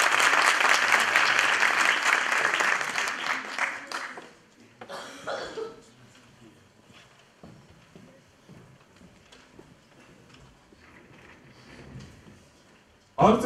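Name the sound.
audience applause welcoming a lecturer to the stage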